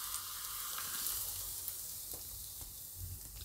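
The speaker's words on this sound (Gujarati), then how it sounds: "હવે વઘાર આપણે આમાં નાખી દેવું." Garlic and red chilli pieces sizzling in hot oil as a tempering for zunka, a steady close crackling hiss with small pops and faint stirring.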